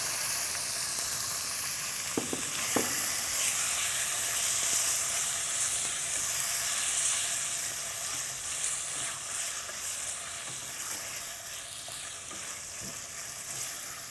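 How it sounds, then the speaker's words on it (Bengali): Chicken pieces fry in oil in a pan, a steady close sizzling hiss with faint stirring scrapes, continuous and alone without talk. "এখন এই মুরগির পিসগুলোকে আমার একটু ভেজে নিতে হবে।"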